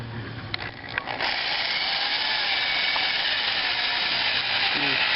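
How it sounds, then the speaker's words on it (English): A power saw cuts a circular piece out of wood, a steady, dense whine running close and loud through nearly the whole stretch after a few brief knocks at the start. "Just cutting a circular piece of wood out."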